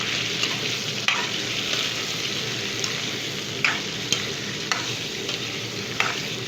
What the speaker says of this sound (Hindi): तेल गरम हो चुका है, उसी में मैं चिकन डाल रही हूँ। जल्दी जल्दी से इसको पकाएं।